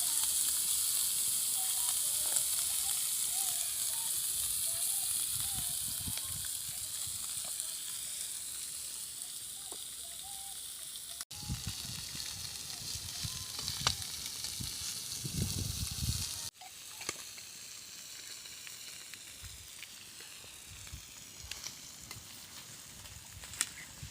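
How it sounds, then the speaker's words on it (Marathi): Pieces of tilapia (chilapi) fish fry in oil on a flat pan, giving a steady, close hiss and crackle that runs throughout, swelling briefly with a louder burst of sizzling partway through. "तर हे सगळे पीस तव्यावरती टाकून झाल्यानंतर त्यानंतर मग आम्ही तेल त्यामध्ये टाकतो आहे"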